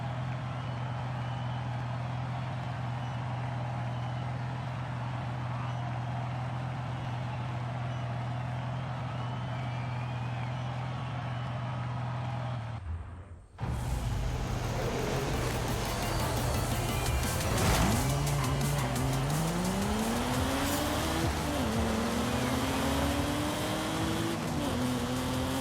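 A Mazda MX-5 engine in Forza Horizon 5 drones steadily, then after a brief break it revs hard with rising and falling gear-change sweeps and tyre noise, loud and close.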